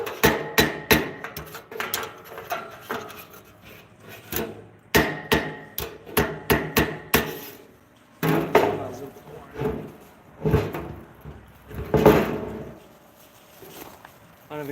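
A hammer strikes metal on an anvil in irregular clusters of sharp, ringing blows separated by short pauses, close and fairly loud, with a person talking between the bursts.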